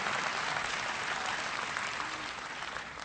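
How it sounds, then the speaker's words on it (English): A town hall crowd in Wisconsin gives dense, even applause after the national anthem is sung by members of the Wisconsin National Guard, loud and sustained throughout and tapering slightly at the end. "Give them a big round of applause."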